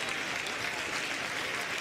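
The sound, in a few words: football crowd applauding a substituted player at Cromer Park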